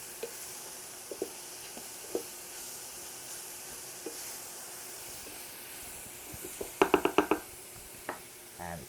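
Sausage browns quietly in a frying pan with a soft, steady sizzle, broken by scattered light clicks and a quick cluster of sharper clatters as onions go in.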